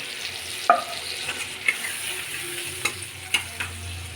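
Water poured onto spices frying in a pan sets off a soft sizzle while a spoon stirs, scraping and tapping against the pan every second or so, close by with no talk.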